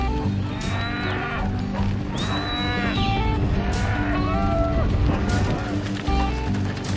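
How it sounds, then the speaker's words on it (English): Cattle in Patagonia low and moo repeatedly over a steady outdoor rumble, several animals calling in overlapping drawn-out bellows, some nearer and louder than others. "This is Facundo, who looks after 400 head of cattle."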